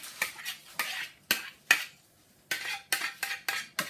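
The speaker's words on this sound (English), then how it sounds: "And now I'm going to add my drained and rinsed lentils, the whole can." Drained, rinsed canned lentils tipped into a bowl for a BBQ-style meatloaf, heard as a series of close clattering knocks and spoon scrapes against the bowl, separated by short pauses.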